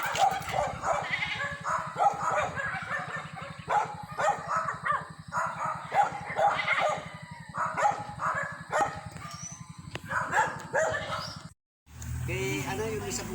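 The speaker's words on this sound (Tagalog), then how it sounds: "Tingnan, kambing oh" Goats bleating beside a road during a drive, several cries scattered across the stretch over steady vehicle engine rumble, close and fairly loud, with a few barks also mixed in; people talk at points.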